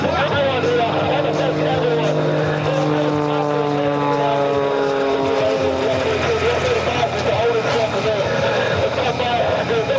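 A propeller aerobatic plane performs at the 2025 Wings Over South Texas Air Show, hanging nose-high in a hover with no forward airspeed. Its engine drones loud and continuous with shifting pitch, while an announcer talks over it.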